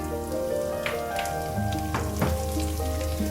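Dried red chillies sizzle and crackle in hot oil, a close, steady frying hiss with a few sharper pops and stirring scrapes over a few seconds.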